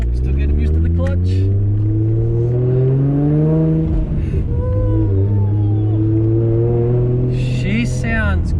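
A forged RB25DET engine in a Nissan R33 pulls hard on a test drive, its loud, close droning note climbing steadily through the gears with a brief dip midway before rising again.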